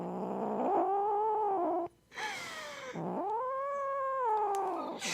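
A cat yowls in two long, drawn-out wailing calls separated by a brief hiss-like break, loud and close with no talking.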